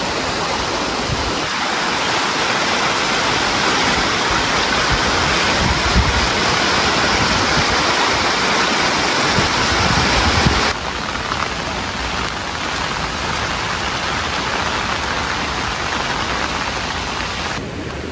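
A small stream on the trail to Zenith Waterfall near Mumbai rushes loudly and continuously in a dense, close roar of flowing water that shifts slightly in tone partway through, with no talking.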